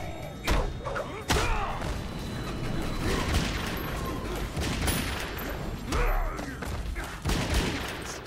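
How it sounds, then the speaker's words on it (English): Stryker's gunfire in the Mortal Kombat 9 fighting game: several sharp shots and heavy thumps spaced irregularly over a rumbling battle background, loud and close. "These gunshots coming in clutch."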